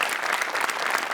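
A live audience at a Marathi comedy show breaks into dense, steady applause, the clapping sustained and even throughout with a faint crowd murmur underneath.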